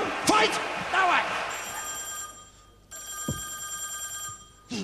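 A telephone bell rings in repeated bursts during a live KVN Higher League comedy stage show, with voices and crowd noise around it and short gaps of quiet between rings.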